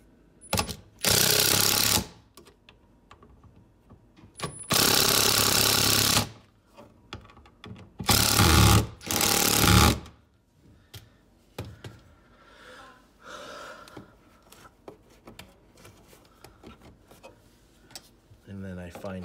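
Cordless drill driving a screw into an electrical outlet during a USB-C outlet swap, three loud close bursts of whirring, each a second or two long, separated by quieter handling clicks and brief talk.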